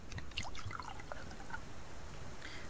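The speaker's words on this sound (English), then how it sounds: "I'm going to just add some water to these and hopefully they'll continue to grow today." Water poured onto growing plants in the survival game Subsistence, a quiet, steady trickle with a few small drips and splashes running for a few seconds, no voices.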